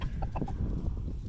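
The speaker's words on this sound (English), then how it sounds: "Okay, so all the chickens from the other flock were inside, but now they've come out" Several chickens from two flocks meeting outdoors, clucking in short bursts close by over a steady low rumble of background noise.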